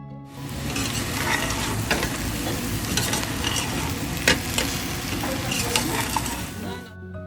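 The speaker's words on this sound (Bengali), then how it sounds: "অল্প গাজর আর তার সাথে বিনসও দিয়ে দিলাম সেগুলো অল্প ভেজে নিয়ে" Sliced carrots and beans sizzle with onion in a hot pan, a dense, steady frying crackle with frequent clinks and scrapes of a spatula against the pan, loud and close throughout.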